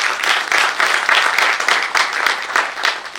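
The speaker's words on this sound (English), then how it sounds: "We need a big round of applause for him, please." An audience applauds an award recipient at a memorial award ceremony, steady dense clapping from a crowd, moderately loud and continuous throughout.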